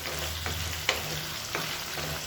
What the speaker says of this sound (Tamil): இந்த எண்ணெயில் இந்த முருங்கைக்காயும் கத்திரிக்காயும் வதக்கி வச்சுக்கலாம்